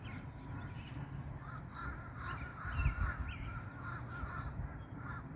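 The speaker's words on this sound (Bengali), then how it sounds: "এই যে আপনার করে কাকগুলো দেখাই, দেখেন কত কাক আজকে" Many crows caw repeatedly under an overcast, cold sky, their harsh calls overlapping at mid distance over a steady low background rumble.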